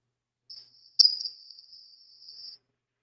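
An isolated high, thin tone from a 300 Blackout bullet striking a ballistic gel block rings steadily for about two seconds, with a sharper burst a half-second in, heard alone against silence.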